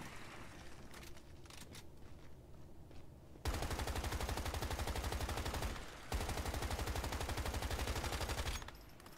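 Rapid automatic gunfire from the player's gun in the game Once Human, two long sustained bursts of dense, even shots separated by a short pause, loud and close, with quieter ambient game sound before.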